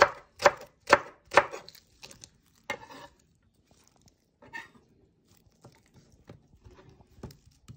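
Small leeks being sliced with a knife on a board, a quick run of four or five crisp, loud chops followed by slower, fainter cuts and soft taps, close and without voices.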